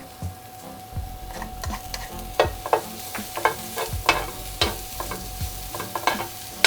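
Ginger and garlic frying in a skillet over medium-high heat, with steady sizzling broken by repeated sharp stirring scrapes and clicks from a utensil, close and fairly loud with no voices.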